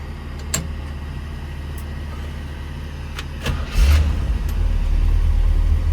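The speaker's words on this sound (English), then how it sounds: "Nice little rumble with the exhaust" A 1964 Chevrolet Corvette with a frame-off restoration cranks with a few sharp clicks, then catches at about four seconds into a loud, steady low exhaust rumble that holds to the end.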